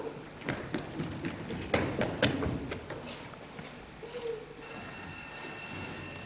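A telephone in a 2001 Russian animated fairy tale rings, with scattered light taps followed by a sustained bright ringing tone toward the end, moderately loud.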